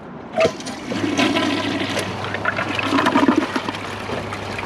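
A Kohler Cimarron toilet flushes during a floater test, a loud close rush of water swirling down the bowl for several seconds, settling into steady running refill.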